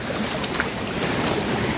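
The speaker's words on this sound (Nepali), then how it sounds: "झर्ना है गाइस हो झर्ना हेर्न सक्नुहुन्छ" A waterfall rushes in a steady, dense roar outdoors, with wind buffeting the microphone throughout.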